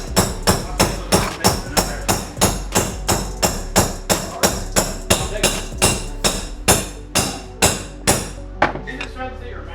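A socket is struck over and over to drive a part into a BMW S 1000 RR until it seats, about two dozen loud, sharp metallic blows in a steady rhythm that briefly turn quicker and more solid near the end.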